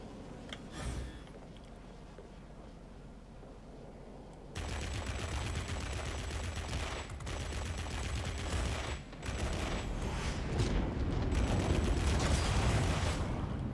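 Rapid, dense aircraft gunfire from an ME P.1092 jet fighter in the World of Warplanes video game, a continuous loud rattling stream of automatic cannon fire that intensifies midway and continues with brief pauses.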